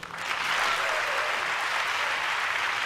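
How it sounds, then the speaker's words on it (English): Applause fills a chamber of Congress during a presidential joint address: dense, steady clapping from a large crowd that swells quickly and holds for a few seconds without a break. "Why are you applauding for that?"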